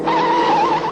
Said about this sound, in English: Even the great Farina spins.